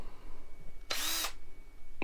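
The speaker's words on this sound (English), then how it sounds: "I have a drill." A power drill bores a hole in a screw mount on a 1/10 scale RC crawler trailer, one loud high-pitched whirring burst lasting about half a second, up close and alone against a quiet background.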